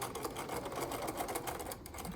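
A sewing machine runs continuously while stitching a straight seam through pinned fabric, giving a steady, even mechanical whir at moderate level for about two seconds with no talking.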